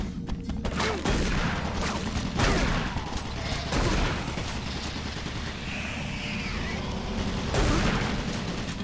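Automated turret guns firing in Doom 3, a dense barrage of heavy blasts and rattling bursts that keeps going, with louder booming hits rising at intervals.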